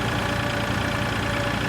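Tractor engine in the video game Farming Simulator 2013, a steady mid-to-low mechanical drone with a faint whine, continuous and even in level, with no voices over it.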